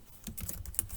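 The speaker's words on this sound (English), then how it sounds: "So I'm going to type public class" Short burst of typing on a computer keyboard, several quick close key clicks in an irregular rhythm, quiet and alone with no talk.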